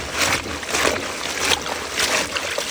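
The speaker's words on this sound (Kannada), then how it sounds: "ಈ ರೀತಿ ಚಂದ ಮಾಡಿ ತೊಳಿಬೇಕು ನೀರು ಹಾಕಿ" Water sloshing and splashing in a container as chili peppers are rubbed and rinsed, with steady close trickling and swishing throughout, no talking.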